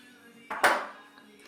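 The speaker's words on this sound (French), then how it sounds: "Et là, on coupe les deux fils aux extrémités." Copper wire ends snipped with cutters while finishing a copper twist ornament: one sharp metallic click followed by a brief ringing tail, close and alone.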